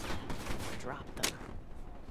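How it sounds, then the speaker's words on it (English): Shotgun fire in Black Ops 3, a short loud burst standing out briefly amid dense gameplay noise and other gunfire. "Fucking shotgun."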